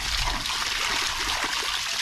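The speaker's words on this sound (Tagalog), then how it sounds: "Yan po ang tubig. Yan ang lakas oh." Water pours into a fishpond in strong, steady flow, a loud continuous rushing and splashing that stays close throughout.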